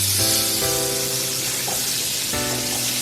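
Chickpeas being fried with onion, turmeric and salt in a pan for a potato and chickpea curry, giving a steady close hiss and sizzle throughout with a low hum beneath.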